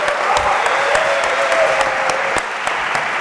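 Steady, dense applause from an audience fills the hall throughout at a lecture event, sustained clapping with sharper individual claps standing out.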